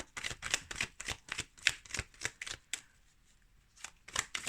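Tarot deck being handled and a card drawn, a quick run of crisp riffling flicks, a brief pause, then another short burst of card flutters, close and soft.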